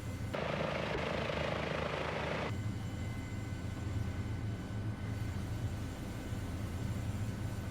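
A steady, droning engine and rotor hum from a Sikorsky S-76 helicopter in a flight simulator, with a brighter rushing layer for the first couple of seconds before it settles to a constant low whine. No voices.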